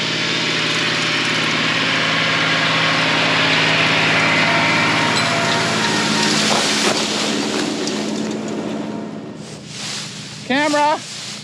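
Tractor engine running in a hay field, a steady droning rumble with wind buffeting the microphone, fading somewhat toward the end where a brief squeaky sound appears.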